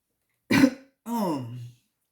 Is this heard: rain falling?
no